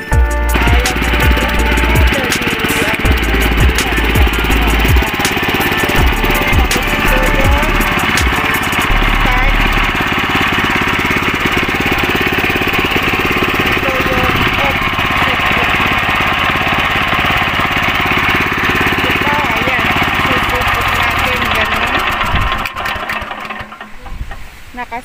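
A hand tractor engine converted to drive a grass cutter runs loudly and steadily up close, with a rough chugging drone. It cuts off near the end, followed by clattering handling noises.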